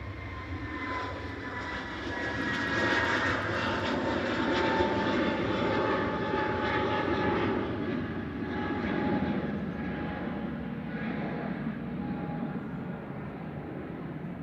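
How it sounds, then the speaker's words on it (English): An easyJet Airbus A321neo jet roars steadily at Manchester Airport, a broad loud engine rumble with a high whine that swells and then slowly eases as the aircraft passes. "This is an A321 Neo, one of the long guns in the EasyJet fleet."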